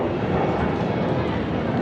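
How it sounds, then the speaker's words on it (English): A MiG jet passing at an air show, a steady broad roar filling the whole short stretch at constant loudness, with a voice talking over it. "I think that's a MiG that just flew by."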